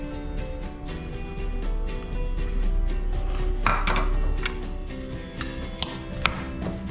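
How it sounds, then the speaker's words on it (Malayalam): Vegetables being mixed for a fish shawarma filling, with repeated clinks and knocks of a utensil against a bowl, fairly close and irregular, with a few sharper taps near the end. "വെജിറ്റബിൾസ് എല്ലാം നമുക്കൊന്ന് മിക്സ് ചെയ്യാം"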